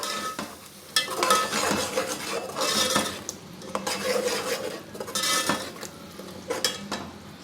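Tomato and green chili paste with masala frying in a pan, with a spoon repeatedly scraping and clinking against the metal over a soft constant sizzle, the stirring coming in uneven bursts.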